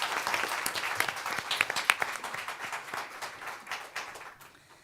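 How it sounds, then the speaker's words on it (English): An audience gives a round of applause at a panel discussion, with dense, steady clapping from many hands that fades toward the end. "Let's give another round of applause to our fabulous panel and moderator"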